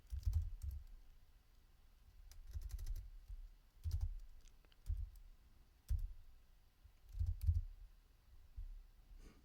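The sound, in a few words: typing 'Ethereum' on a computer keyboard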